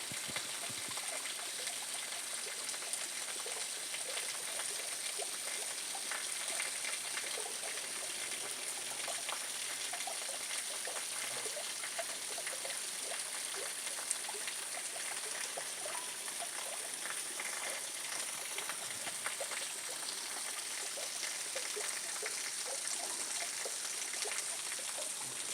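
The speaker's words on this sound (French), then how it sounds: "Et là, la cascade." Cascade des Mathieux waterfall near Lac de Bugarach in the upper Aude valley: a steady, even rush of falling water, continuous and unbroken, heard at moderate distance with no talking.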